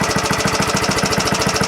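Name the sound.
1970 Rupp Scrambler minibike engine running, breaking up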